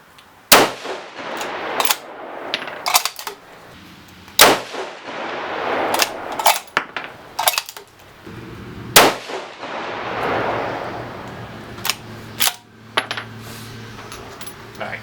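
A 6mm Creedmoor rifle firing 107-grain Match King bullets on a range gives sharp, loud reports, several spaced shots with metallic ringing tails, alone without talk.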